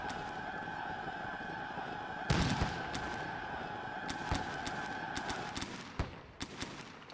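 Musket volleys crack out in a Civil War battle game set at Gettysburg, with a sharp burst of several shots followed by scattered single reports over a steady background tone.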